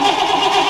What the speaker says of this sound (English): let's crank the engine and see what it says